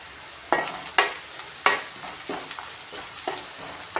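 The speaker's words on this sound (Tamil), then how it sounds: "கொஞ்சம் நல்லா வெங்காயம் வதங்கி வரட்டும்" Chopped onions and curry leaves sizzle and fry in a pan for murungakkai thokku, with several sharp stirring scrapes and bursts of crackle over a steady frying hiss.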